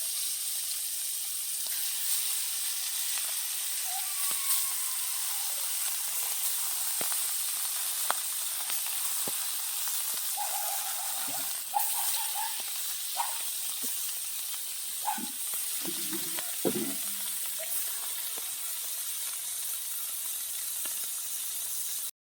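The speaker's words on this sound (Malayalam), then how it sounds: "അപ്പം നമുക്ക് ഈ മീനൊന്ന് വറുത്തെടുക്കാവേ" Kurua fish coated in masala fries in a pan for a Kerala-style dish. A loud, even sizzle and hiss carries on throughout, broken by a few light clinks and scrapes partway through.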